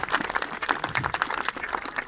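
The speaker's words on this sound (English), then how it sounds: "Ladies and gentlemen, give them a wee round of applause." An outdoor audience at a castle reenactment claps for performers who have just demonstrated stone axes, a dense, steady patter of many hands that carries on through the whole stretch at moderate volume.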